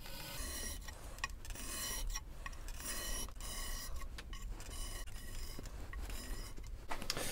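A spokeshave blade is drawn across a sharpening surface in a series of short, even rasping pulls, each one a gritty scrape close by, with no voices.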